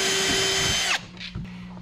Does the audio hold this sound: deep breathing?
no